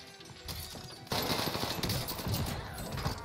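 Rapid sustained gunfire in the Call of Duty Warzone Pacific video game, dense crackling bursts that jump louder after a second and keep going as a steady close barrage.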